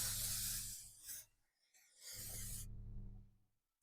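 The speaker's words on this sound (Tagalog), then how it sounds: "Shake and then spray natin." Aerosol bursts of KS Nano Waterproof Spray, two long hissing sprays separated by a short pause, loud and close with no talking.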